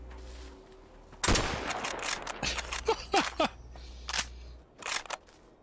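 A 5.56 rifle fires in a modded Fallout video game, loud close shots in a quick irregular burst with clinking casings and lingering echo between rounds.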